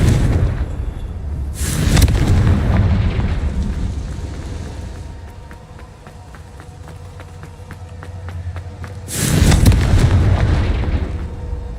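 Confringo blasting spell explosions in the Hogwarts Legacy video game, two heavy booming bursts separated by several seconds of quieter game ambience with rapid ticking clicks.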